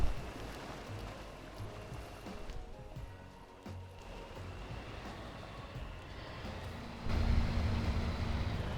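Steady low truck engine rumble inside the cab of an off-road truck in the MudRunner driving game, running continuously and swelling noticeably louder near the end, with no voices.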